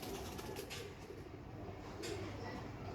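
Pankhi pigeons kept as a flock coo softly in low repeated murmurs under a constant background rush, faint and steady throughout.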